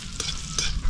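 Ginger, garlic, onion and chili sautéing in a pan, a steady close sizzle with two brief stirring scrapes, no talking.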